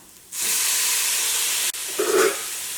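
Chopped tomatoes hit hot spiced oil in a pan for a coconut-free green gram curry, setting off a sudden loud, steady sizzle that briefly cuts out and then carries on crackling.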